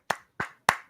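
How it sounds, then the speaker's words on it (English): A slow, deliberate golf clap: three single hand claps, close and crisp, evenly spaced with silence between each. "Golf clap"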